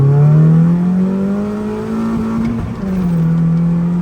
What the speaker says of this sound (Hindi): दूसरे गियर से स्पीड थोड़ी ऊपर करती हैं